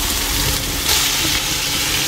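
Diced onion and bacon sizzling in a hot pan for Polish bigos, hunter's stew: a steady, even hiss of frying that carries on throughout with no break and no talk.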